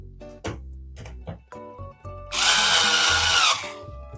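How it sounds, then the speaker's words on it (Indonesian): A low-torque power drill whirs in short bursts, then runs in one longer, louder grinding burst as it drives a screw during a PC build, with no talking. "berarti emang si bor gua torsinya kurang jos guys"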